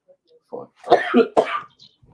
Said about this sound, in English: somebody's coughing bad